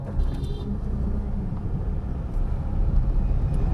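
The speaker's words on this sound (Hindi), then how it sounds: "अभी दूसरे गियर पे उठा लिया मैंने गाड़ी, मुश्किल से उठता है बहुत, पर उठा लिया" A Tata Nano running on CNG pulls away in second gear at night with a low, labored engine rumble that swells slightly as it gains speed, steady and close, with no talking.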